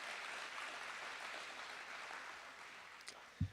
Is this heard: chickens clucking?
no